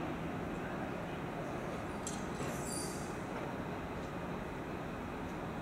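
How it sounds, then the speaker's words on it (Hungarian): A train arrives at a platform in Budapest Keleti station, a steady, loud rumble of rolling wagons with faint brief wheel squeals partway through and a murmur of voices underneath. "A 7. vágányra szerelvény érkezik."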